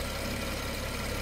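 A 2015 BMW 640i xDrive Gran Coupe engine idling after a cold start, a steady, even drone with a continuous low rumble and no change in pitch.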